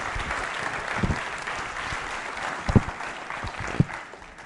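Audience applause for a school quiz show contestant, a steady wash of clapping with a few sharper claps standing out, moderately loud and without talk.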